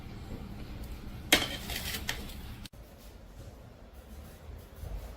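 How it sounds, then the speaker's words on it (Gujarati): A spatula scrapes dried lemon juice and sugar off a vessel: one sharp, gritty scrape and clatter, then softer rasping and faint handling sounds, close and moderately loud, with no talk. "ફરીથી આવી જ રીતે વાસણમાં સુકાવા દેવાનું અને તાવીતાથી ઉખાડી દેવાનું"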